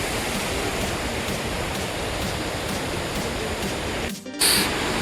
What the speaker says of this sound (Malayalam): താഴേക്ക് വെള്ളം ചാടി വീണുകൊണ്ടിരിക്കണം കേട്ടോ